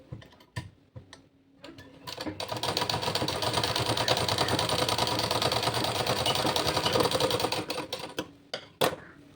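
A sewing machine stitching a blouse starts with a few sharp clicks and short bursts, then runs in one steady, rapid whirring stretch of several seconds before slowing into scattered taps and stops, with no talking.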